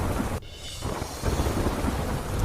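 Steady rain falls with a light wind over rural farmland, forming a dense, continuous hiss; a brief low rumble near the start may be distant thunder. No voices.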